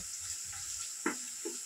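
Onions fry golden in a pan with cinnamon bark, giving a faint, steady sizzling hiss broken by a couple of soft utensil knocks.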